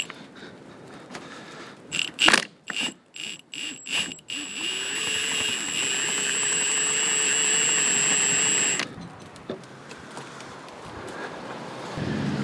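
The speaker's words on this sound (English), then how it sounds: "So I'm back with a Milwaukee on the lightest setting." A Milwaukee power tool on its lightest setting backs out a bolt during cam gear removal on an MG TF car: several short sharp bursts, then a sustained whirring drone that stops abruptly.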